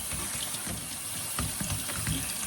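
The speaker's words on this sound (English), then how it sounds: "let's go ahead and put some cold water on it to cool it down to make sure that it stops cooking" Cold tap water gushes steadily over cooked pasta in a colander, a continuous splashing rush with small spattering bursts, close and loud with no voices.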